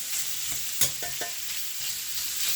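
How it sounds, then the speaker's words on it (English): Beef smoked sausages searing in a pan on a stove set to high heat, a continuous moderate sizzle with a few sharp clinks and scrapes of a utensil, no talking. "I got my stove on high, y'all, because we want to sear in and crisp up these sausages"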